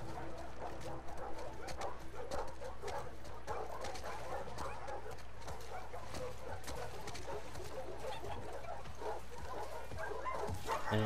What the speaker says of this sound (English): Man, I hate these dogs.